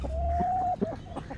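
Hens on a farm give a drawn-out, steady clucking call followed by a few short clucks, close and clear with no talking.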